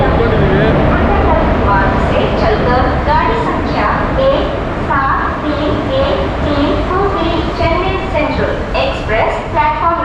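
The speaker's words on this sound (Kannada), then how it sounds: "ಟ್ರೈನ್ ಬಂತು ಇದೇ ಟ್ರೈನ್" A train arriving at a station rumbles loudly and continuously, with people talking and station bustle layered on top throughout.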